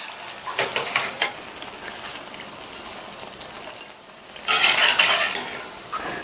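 Potato bajji fry in hot oil in a pan with a steady sizzle, broken by clinks and scrapes of a utensil as the fritters are turned, and a louder burst of crackling toward the end.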